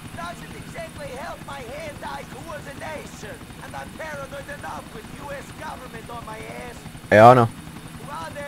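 Helicopter rotor drone from GTA IV with a steady rhythmic chop throughout, sitting under ongoing casual talk, with a brief louder burst near the end.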